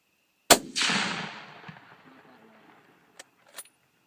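A single sharp .243 rifle shot fired at two TVs cracks loudly and rolls off into a fading outdoor echo, followed by a couple of faint distant knocks.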